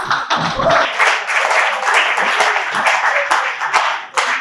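Audience applause and clapping at an anniversary event, a dense, steady wash of many hands filling the room, loud and continuous with a few sharper claps standing out near the end.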